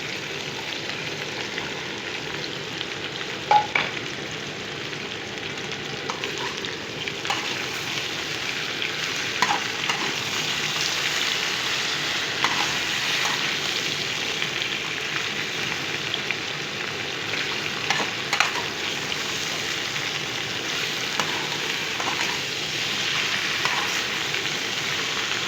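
Okra and potatoes sizzle in a hot pan with a constant frying hiss, broken every few seconds by the scrape and clack of a spoon stirring, close and steady throughout.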